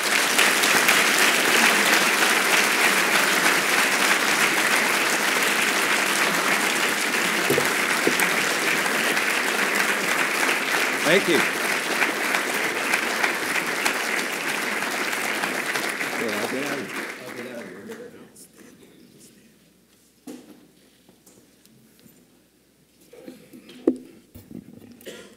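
An audience at an awards evening applauds a keynote speaker on reinventing the internet, a long, loud, dense round of clapping that fades out near the end, followed by a brief spoken thanks.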